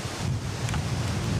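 Wind gusting outdoors beside a caravan at a wild camping spot, a steady broad rushing noise buffeting the microphone throughout with no voices.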